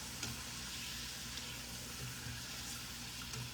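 Sweet potato pieces fry in hot oil, a soft continuous bubbling sizzle with faint scrapes and ticks throughout, fairly quiet and steady, no one talking.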